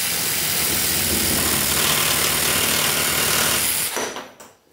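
A Parkside 2-in-1 jigsaw and reciprocating saw, set to speed 6, buzzes harshly and steadily as it cuts, then winds down and stops near the end.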